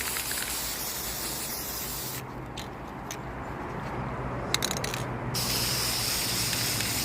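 Trigger spray paint hissing steadily onto costume mask parts, a loud continuous spray that breaks off briefly in the middle with a few clicks and then resumes.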